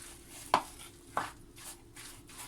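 A spoon stirs a dry vegetable and greens mixture in a pan that still has no oil. Two distinct scraping knocks are heard over a faint, steady background hum.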